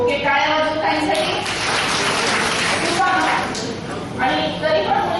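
An audience at a workshop on saving the girl child claps together, a broad rattling wash of many hands that swells and fades over a few seconds, mixed with a speaker's voice.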